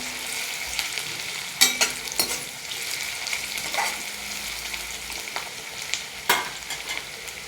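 Chopped onion frying in a pan for a Maharashtrian sprouted moong usal, a constant close sizzle with occasional sharp pops and scraping stirs breaking through.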